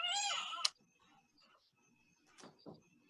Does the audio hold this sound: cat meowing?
yes